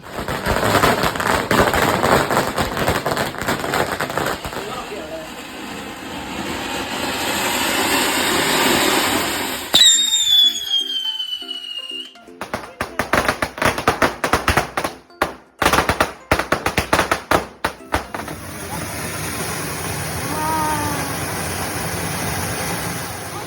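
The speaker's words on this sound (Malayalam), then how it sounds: "അപ്പോൾ ഇന്നലെ കുറേ നേരം നമ്മൾ പടക്കം പൊട്ടിച്ചു" Firecrackers bursting during a Vishu celebration in Kerala: rapid crackling strings of loud pops, a whistling rocket, then a dense burst of sharp bangs followed by distant crackle, loud and near.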